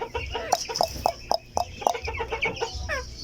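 Silkie chickens in a backyard cluck in short, repeated bursts close by, with a few louder squawks mixed in among a small flock.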